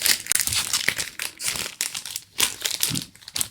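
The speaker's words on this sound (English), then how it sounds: "Let's get it out of the package here, the clear envelope." A clear plastic envelope package being opened, with steady crinkling and rustling in uneven bursts, close by and fairly quiet, with no voices.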